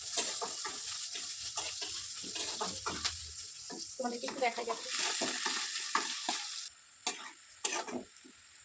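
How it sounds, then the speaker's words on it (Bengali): Sliced onions fry in hot oil in a pan for chicken, giving a bright continuous sizzle broken by repeated spoon scrapes and stirring knocks, close and fairly loud. "পেঁয়াজটা ভাজা ভাজা হয়ে গেছে"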